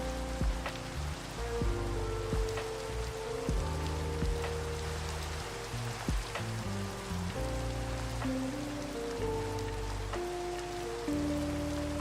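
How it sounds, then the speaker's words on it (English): Rain falls steadily in Minecraft, a soft, constant patter under low, sustained background music with occasional faint clicks. "It's strange, seeing snow and having the rain noises."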